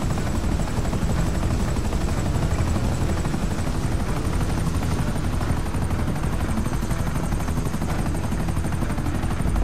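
Hovering thrust roar of an arriving jetpack-style thruster vehicle in a video game, a steady dense rumble with a faint high whine, loud and unbroken throughout with no talk.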